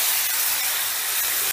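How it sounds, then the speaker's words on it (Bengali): Onions frying hard in hot oil over a high gas flame, a loud, steady hiss that holds evenly and then drops off abruptly at the end. "এবারে গ্যাসের আঁচটা বাড়িয়ে দিয়ে পেঁয়াজটা আমি বেশ লাল লাল করে ভেজে নেব।"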